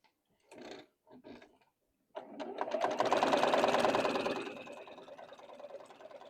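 A sewing machine stitches quilt blocks: two short bursts of running, then a longer steady whir that swells and eases off, close and clear with no talking.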